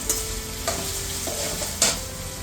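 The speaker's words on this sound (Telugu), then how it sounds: "పోపులో కట్టుకాయ కూడా వేసేస్తాను వేగడానికి" Oil tempering with peanuts frying in a pan for pulihora, a soft continuous sizzle broken by several sharp scraping stirs of the spoon, no voices.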